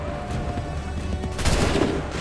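A musket volley in Assassin's Creed 3: a burst of overlapping gunshots crackles out at once over a dense battle din, loud and close, with no clear voices.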